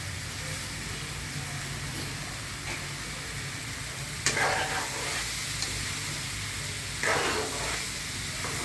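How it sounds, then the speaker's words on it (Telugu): Chopped eggplant and potato sizzle and fry steadily in a pan, a continuous close hiss with a few brief stirring scrapes and no talk. "నేను వంకాయలు వేస్తున్నా. వంకాయలు చిన్న కట్ చేసుకుని వేసుకోండి."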